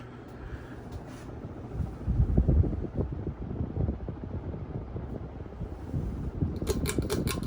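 A Craftmade 52-inch decorative ceiling fan runs at speed, a steady whooshing rush of moving air with faint rhythmic flutter, close and continuous with no talking.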